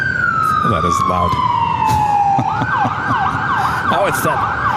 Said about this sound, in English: Oh, it's that ambulance again.